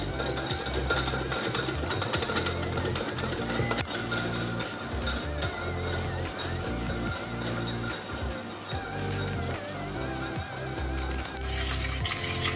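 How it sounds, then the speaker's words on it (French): Chocolate and butter cake mixture whisked by hand in a bowl, a steady dense rhythmic scraping and clatter running continuously and fairly loud throughout, with no talking. "on les mélange un peu avec la fouet."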